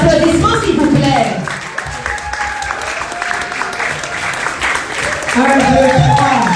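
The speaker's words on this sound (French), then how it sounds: "Sous vos applaudissements, s'il vous plaît." An audience at a wedding celebration claps steadily, loud applause lasting throughout with voices talking over it near the start and end.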